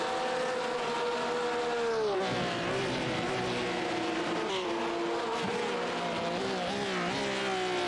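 Race cars lapping Sonoma in the iRacing sim, a loud sustained onboard engine drone rising and falling in pitch through shifts and corners, uninterrupted by talk.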